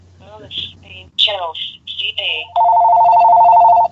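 An electronic telephone ringtone plays loud and close, first as a run of short chirping tones, then as one steady sustained tone, with a brief voice at the very start.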